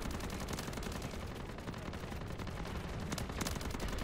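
Rapid automatic gunfire from hip-fired weapons in MW3 Zombies, a dense, sustained burst of loud shots running continuously with a few sharper cracks near the end.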